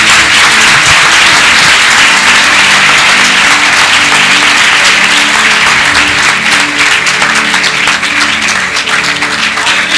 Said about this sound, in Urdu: زوردار تالیاں یسوع ਲਈ ਵਜਾ ਦਿਓ।